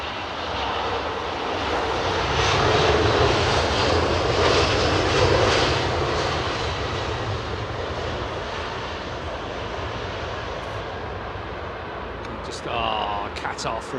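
Qatar Airways Airbus A380 jet at Heathrow Airport, a broad engine roar that swells and then slowly fades, heard from the ground with voices talking over it near the end.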